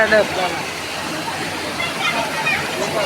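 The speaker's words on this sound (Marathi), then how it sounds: "छोटा वॉटरफॉल बोलू शकतो." A small waterfall at a temple spot in Devgad, Konkan, produces a continuous rushing splash of water close by, with people talking over it throughout.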